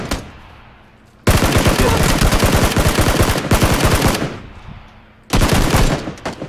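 Automatic gunfire in a shooter video game comes in two loud, sustained bursts of rapid rattling shots separated by a quieter gap, with a third burst starting near the end.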